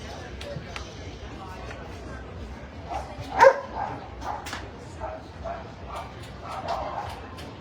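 A Golden Retriever at a dog show gives a single sharp bark amid a murmuring crowd, with a few softer yips and whimpers scattered around it.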